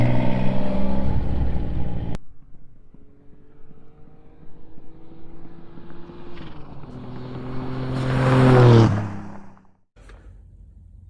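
A Maserati race car makes a run on a test track at an airport, its engine droning steadily, then rising in pitch as it accelerates and passes close and loud before fading.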